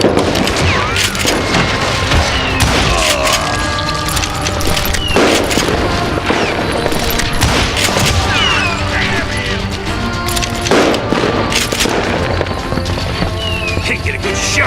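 Rapid, continuous gunshots and crashing impacts ring out in a saloon shootout in the Western game Call of Juarez Gunslinger, loud and dense throughout, with voices shouting amid the firing.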